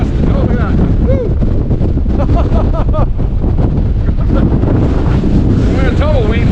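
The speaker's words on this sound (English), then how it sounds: "Every once in a while you get a gust that like almost takes you off your feet." Strong wind gusts roar across an exposed mountain top during a high wind warning, buffeting the microphone loudly and continuously for several seconds.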